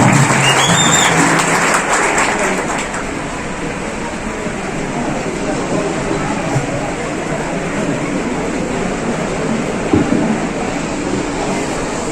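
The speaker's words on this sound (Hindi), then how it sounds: "आपकी जोरदार तालियों की गड़गड़ाहट में कार्य सम्राट माननीय दादा हुसैन जी माइक पर जोरदार तालियां।" Crowd at a public meeting in Ramzanpura clapping, a loud, rumbling, sustained wash of applause that starts strong and settles into a steady roar with a hall-like hum.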